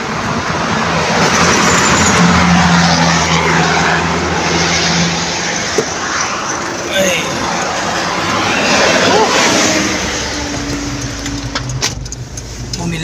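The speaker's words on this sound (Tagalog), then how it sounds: "may ingay tayo sa highway oh" Roadside highway traffic beside a 7-Eleven on the way toward San Pablo, a steady loud wash of passing cars and engines with low rumble throughout, people talking over it.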